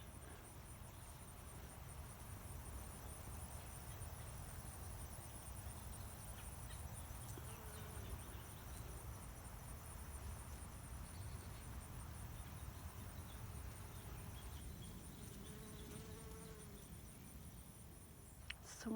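Steady insect buzzing fills an outdoor scene, a continuous low drone of many bees close by on wood aster flowers with a faint high hiss above, no voices.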